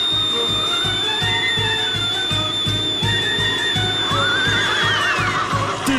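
A horse neighs and whinnies loudly in a Ukrainian folk-legend setting, a long wavering call rising and falling over steady background noise and music, with a rhythmic low thumping beneath.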